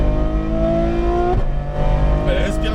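Ferrari F12 Berlinetta on a race track at Exotics Racing Las Vegas, engine droning at steady revs then dropping off and picking up again as it accelerates, loud and close from inside the car.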